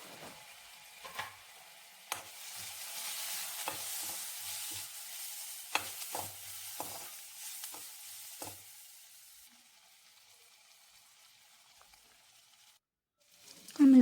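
Gobi manchurian with capsicum, soy sauce and spices stirred in a pan, with repeated scraping strokes over a light sizzle that fades toward the end, then a brief louder bump.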